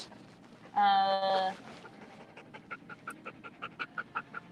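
A dog pants close by in a rapid, regular rhythm, following a brief loud tonal burst of another sound.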